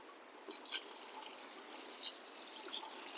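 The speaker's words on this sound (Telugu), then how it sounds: "మొత్తం తొమ్మిది గ్లాసులు నీళ్ళు పోస్తున్నాను" Water is poured into a cooking pot for a Palnati-style beef chili biryani, a faint, steady trickle with soft splashing swells that stands alone without talk.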